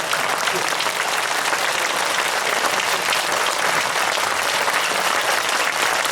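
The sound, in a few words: crowd applause with hands raised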